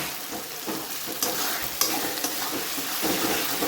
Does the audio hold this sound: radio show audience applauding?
no